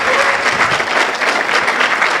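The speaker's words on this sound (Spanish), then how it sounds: "Dele el aplauso." Loud, dense audience applause at the close of a Spanish-language lecture on the Gospel and social problems, a continuous wash of many hands clapping at close range throughout.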